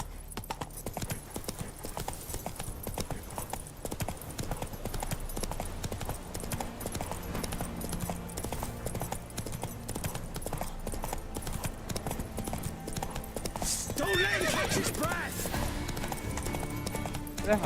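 Roach the horse galloping in The Witcher 3 game: rapid continuous hoofbeat clip-clop with a brief whinny near the end, under game music and effects.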